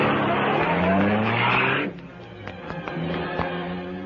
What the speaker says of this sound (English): The superpowered car roared to life as Britt Reed stepped on the starter. Then it slid out into the deserted side streets